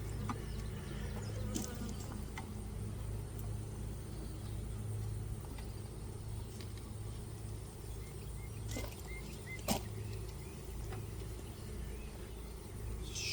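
Honey bees buzz steadily around an open hive during an apiary inspection. The buzzing is a faint, continuous drone with small clicks and handling sounds now and then, and there is no talk over it.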